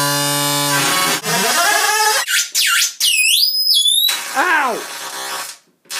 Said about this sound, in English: This is our sick octave synth that we've built